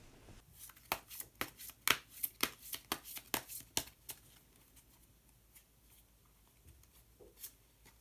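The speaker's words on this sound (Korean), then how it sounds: "그러면 히든 카드를 한 장 더 뽑아보도록 하겠습니다." Tarot cards being shuffled and drawn, a run of crisp close riffling snaps for about four seconds, then a few softer card slides and taps in a quiet room.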